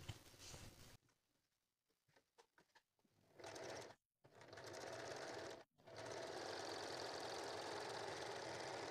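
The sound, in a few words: sewing machine stitching puff sleeve fabric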